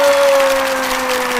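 A crowd claps and cheers loudly throughout, with a steady sustained tone running underneath that bends downward at the very end.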